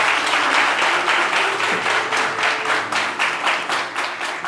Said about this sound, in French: de l'applaudir bien fort, s'il vous plaît